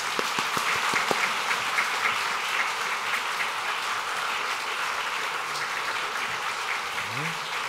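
Sustained applause from a congregation at a church ordination ceremony after the new pastors are proclaimed, a dense steady wash of clapping with a few sharper near claps at the start.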